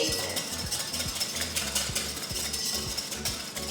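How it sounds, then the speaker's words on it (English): A utensil stirs keto pancake batter in a bowl with a steady, rhythmic scraping and clinking, each stroke repeating at a regular pace, close and moderately loud. "Plus it'll cool it down some when you stir it"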